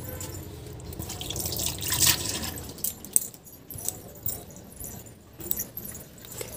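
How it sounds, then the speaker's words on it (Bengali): Water dripping and splashing while hands are washed, heard as irregular close drips and small splashes with a louder burst early on, some faint clinking, and no talk. "ধরো হাতটা ধুয়ে নিই।"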